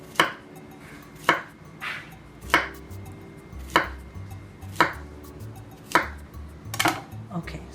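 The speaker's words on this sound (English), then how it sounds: "So I am going to cut them a little small." A knife chops plantains into small pieces for tostone chips, with about eight crisp, evenly spaced strikes on a cutting board, each about a second apart, close and clear.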